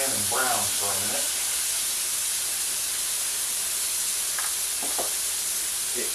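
Pork pieces brown in a hot pan with a steady bright sizzle and hiss throughout, while a voice speaks briefly near the start and again toward the end.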